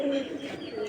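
A female Giribaj pigeon, a hen that recently laid a pair of eggs, gives a brief, soft coo close by, a low throaty tone that holds steady through the moment.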